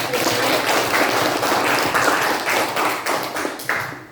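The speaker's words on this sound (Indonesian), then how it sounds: "tepuk tangan untuk" Audience clapping at an Indonesian classroom session on building a discount calculator with generative AI, a dense steady patter of many hands lasting several seconds, with a few sharper claps standing out near the end.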